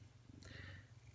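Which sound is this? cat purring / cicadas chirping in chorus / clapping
cat purring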